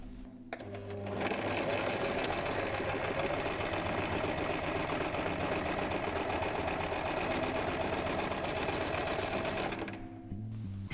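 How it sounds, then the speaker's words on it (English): A sewing machine stitches two pieces of fabric wrong sides together, running steadily and loudly for about nine seconds with a dense, even mechanical whir, then stopping. "Instead of right sides together, we're going to sew wrong sides together."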